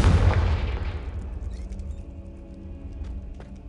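A Confringo fire spell in Hogwarts Legacy strikes a brazier with a heavy boom, and a rumbling roar follows that fades over a few seconds. Faint crackles and small ticks come after.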